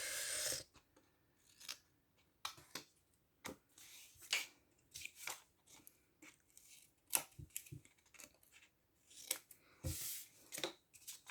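A chisel bevelling the edges of material for an explosion box, heard close as a long run of short, sharp scraping cuts and clicks in irregular bursts, separated by brief quiet gaps.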